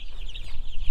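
One-week-old broiler chicks peeping and chirping in a tight cluster, a continuous high, wavering chatter from close by with some low handling bumps underneath.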